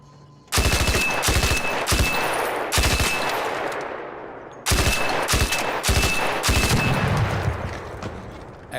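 Renegade rifle in the Arc Raiders shooter, firing two loud, close bursts of rapid sharp shots separated by a short pause, with each volley's echo tailing off afterward.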